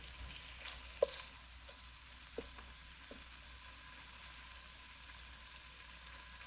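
Bacon frying in a pan, a steady soft sizzle and crackle with a few sharp pops, fairly close and alone without talk.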